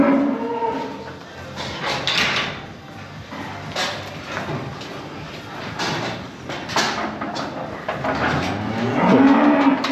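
Cattle moo repeatedly inside a barn with a milking robot, deep drawn-out lowing calls at close range over clanking stall noise and a sliding door, building louder toward the end.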